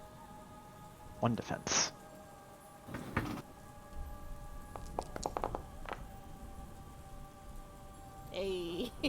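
Steady rain falls softly in the background of a tabletop horror role-playing game session, a low continuous hiss under intermittent talking and a few brief knocks.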